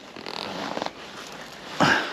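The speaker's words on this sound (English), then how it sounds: "you've got to unzip one of the sides of the rocket pockets" A zipper on the rocket pocket of a handbag being pulled open in a short ratcheting run, close and fairly quiet, followed by a brief louder rustle of fabric.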